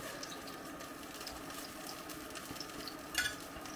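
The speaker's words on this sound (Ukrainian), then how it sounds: "Змащуємо олією та будемо смажити другу партію." Quiet, steady sizzling of flatbread frying in oil in a pan, with a brief louder clink near the end.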